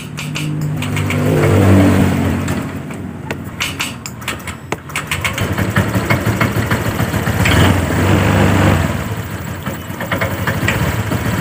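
A Honda Vario 125 fi scooter engine is cold-started with difficulty, its motor cranking and catching into a rough, uneven idle that stays loud and close for several seconds, with throttle blips lifting the revs.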